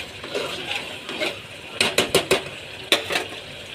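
A spoon stirs mutton rassa masala paste with turmeric and salt in a pan, giving a few sharp metallic clinks and scrapes in quick succession, close and fairly loud over a soft background hiss.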